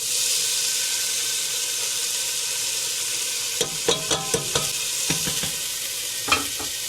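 Rice goes into hot oil with fenugreek and black seeds for kichari, raising a steady hiss that gives way to a run of distinct scraping stirring strokes and clatters, close and moderately loud.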